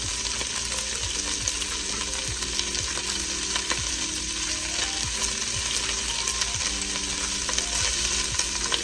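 Sausage meat and garlic fry in hot oil with a steady, dense sizzle, while a utensil scrapes and ticks against the pot at irregular intervals, close up and without talk.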